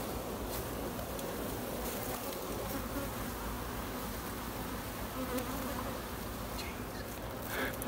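Bees buzz steadily in a dense honey-filled hive in an attic, a close, continuous droning hum with no talking.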